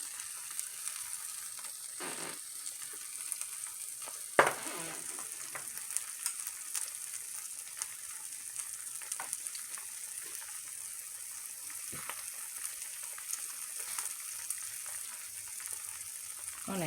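Eggs sizzle steadily in a hot pan for a steak and cheese omelet seasoned with black pepper, a soft continuous frying hiss with a few clinks and scrapes of a utensil.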